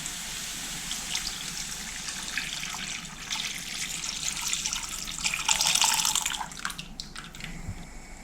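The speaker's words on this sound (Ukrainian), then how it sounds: "До цих грибочків, що залишилися, вливаю ось цей бульйон" Broth pours steadily into a pan of leftover mushrooms to make gravy, a continuous close liquid splashing that swells briefly near the end, with no talk.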